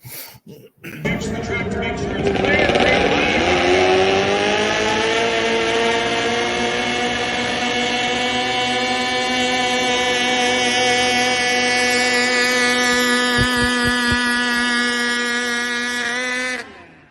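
A small micro mini speed sled engine races steadily for about fifteen seconds, a loud sustained buzzing drone with rising pitch early on, holding near and strong before cutting off at the end; a voice speaks faintly beneath it.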